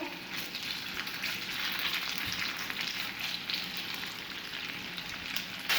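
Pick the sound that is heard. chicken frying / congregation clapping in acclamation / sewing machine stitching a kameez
chicken frying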